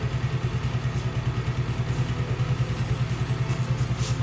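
A 2024 Icebear Champion Honda CT70 clone motorcycle idles indoors in an enclosed space, its small engine thumping in a fast, even, loud rhythm with no talk.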